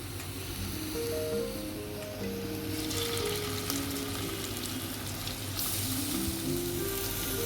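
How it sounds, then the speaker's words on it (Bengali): Salt-and-turmeric-rubbed prawns frying gently in oil for a Bengali chingri malai curry, a steady soft sizzle and crackle running throughout, with no voices. "তার জন্য আমি খুব হালকা করে মাছগুলোকে ভেজে নেব"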